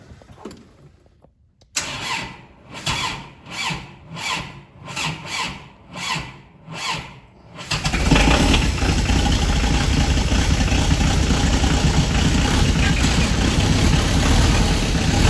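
A Kubota tractor's diesel engine cold-starting on a cold day after its automatic glow plugs cycle off, with about seven loud, rhythmic starter cranks followed by the engine catching into a steady, loud rumbling idle.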